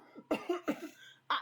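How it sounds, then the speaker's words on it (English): A woman coughs several times in quick, close bursts, then gives one more cough after a short pause, each rough and breathy in an otherwise quiet room. "Looking to you as she coughs."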